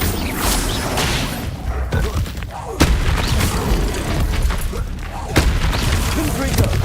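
A Bombarda spell explosion in the Hogwarts Legacy video game, sharp crashing blasts landing in bursts amid ongoing combat noise, with a voice speaking through the action.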